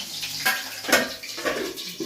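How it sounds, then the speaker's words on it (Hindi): Water spilling in a home kitchen while vegetables cook, a few short splashing bursts in quick succession, close and moderate in level. "कैसे पानी गिर गया?"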